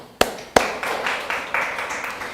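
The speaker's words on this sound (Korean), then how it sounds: "하나님께 영광이 박수." A church congregation at a Wednesday worship service gives a few sharp, loud claps followed by softer, lighter clapping that continues at a steady moderate level in a resonant hall.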